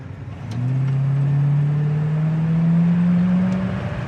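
A 1965 Chevelle Malibu with a Powerglide transmission drives along, its quiet engine hum rising smoothly in pitch as it gathers speed, heard from inside the car with a steady road rumble beneath.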